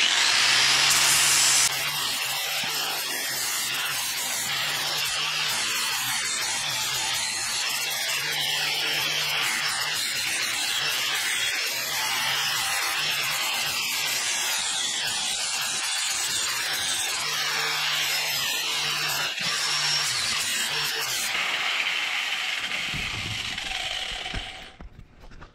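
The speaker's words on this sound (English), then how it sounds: "That's what happens when you fucking grind." A flap wheel on a grinder works metal, making a loud, continuous abrasive roar and rasp that holds steady for over twenty seconds before tapering off near the end.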